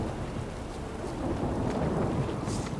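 Thunder rumbles and steady rain pours in a stormy scene from the video game The Witcher 3, a continuous loud wash of rainfall with low rolling thunder and no voices.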